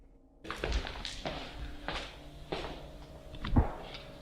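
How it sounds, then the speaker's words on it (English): Someone knocks on a wall with an object: several dull, hollow thunks come irregularly, quite faint, with one slightly harder knock near the end. "using something to knock on the wall instead of their own face?"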